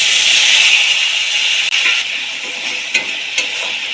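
Water poured into a pan of sizzling eggplant, potato and fish curry: a loud, bright, steady hiss of frying that softens slightly partway through, with a couple of brief stirring scrapes near the end.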